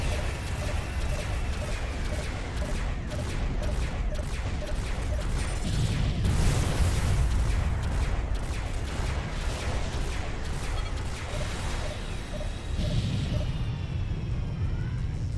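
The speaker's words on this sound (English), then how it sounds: "he got splattered by the beam cannon" Beam cannon blasts and explosions rumble in the space combat game Freespace 2, with repeated bursts, sweeping tones and crashing impacts filling the clip without pause.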